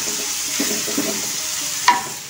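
Sliced bitter melon stir-fried in a pan, a soft steady sizzle with a few light scraping stirs and one brief clack, fairly close and without talk.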